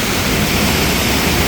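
Water rushes steadily over a stone anaikattu check dam at Chithirai Chavadi near Coimbatore, a loud, close, unbroken roar of heavy flow with no voices.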